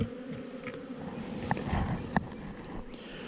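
Honeybees hum at a hive during a beekeeping split in Texas while frames are moved into a larger box. A soft, continuous buzz stays close, with a couple of faint clicks.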